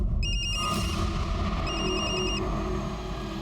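Mobile phone rings in a drama scene, its electronic ringtone pulsing in two bursts of rapid repeated beeps over a low background rumble.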